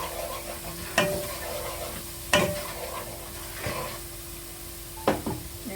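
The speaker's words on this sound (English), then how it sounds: "Just going to give this a mix." Curry powder, turmeric, cumin and coriander stirred in a hot pan for desi-style pasta, a steady low sizzle broken by four loud, spaced scrapes and knocks of the utensil against the pan.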